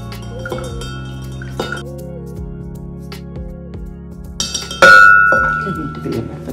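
Sugar syrup and mint strained into a glass jug, with liquid trickling and pouring, light clinks of glass and a sharp ringing knock near the end, over a steady background hum.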